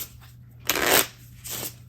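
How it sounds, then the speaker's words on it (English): Two quick riffle shuffles of a deck of cards, a louder ripple followed by a shorter, softer one, each a brief crisp flutter close up. "And we'll put the 10 of clubs card back in the deck and shuffle"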